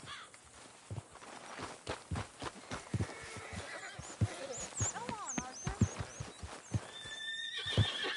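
A horse in the Western video game Red Dead Redemption 2 whinnies several times while its hooves clip-clop at a steady walking pace, fairly close, with a few footsteps mixed in and no talking during the sounds.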